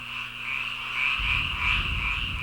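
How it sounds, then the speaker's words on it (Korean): Frogs croak at night on an island near the Korean DMZ, a loud, continuous chorus of trilling calls with a lower rhythmic croaking layer joining midway. "들리는 소리라곤 개구리 울음소리"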